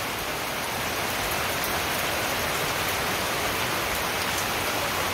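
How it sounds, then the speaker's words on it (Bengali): Heavy rain pours steadily and close by, a dense unbroken hiss of drops striking surfaces, with no voices and no letup through the whole stretch. "অনেক বৃষ্টি হলো, মোটামুটি ভালো বৃষ্টি হলো"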